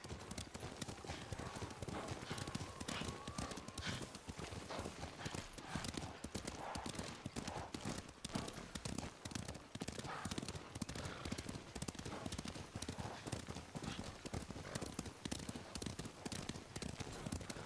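Horse hooves clip-clopping in the Ghost of Tsushima video game, a steady galloping rhythm running the whole time, loud and busy alongside game effects and faint voices.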